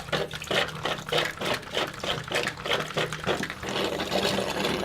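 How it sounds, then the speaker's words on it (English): Water purged from an MSR Guardian purifier pump in a bathroom, a steady rushing spray pulsing in quick repeated bursts, close and fairly loud throughout. "I get this guy sealed up and purge the water out of the pump"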